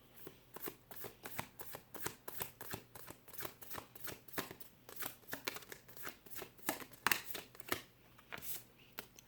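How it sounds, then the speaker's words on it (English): A deck of tarot cards is shuffled by hand in quick, repeated riffles and flicks, soft and close with a steady rhythm and no talking. "I'm going to shuffle, let the cards fall where they may"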